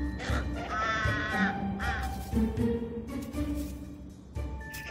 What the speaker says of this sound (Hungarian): Ám egy mohú dolmányos varjú magának akarja az egészet.